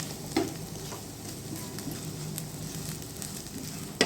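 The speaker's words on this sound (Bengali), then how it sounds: "এখন খুব ভালোভাবে তেলের মধ্যে আলুগুলো মিশিয়ে নিয়ে ভেজে নিব অল্প আঁচে বেশ" Potatoes frying in oil with Maggi masala over low heat, giving a steady soft sizzle with a few louder stirring clatters, close by and without talk.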